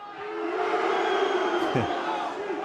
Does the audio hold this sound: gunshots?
no